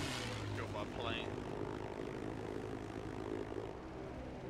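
A propeller airplane engine in a video game drones steadily and loudly throughout, with a brief higher whine early on and faint talk in the background.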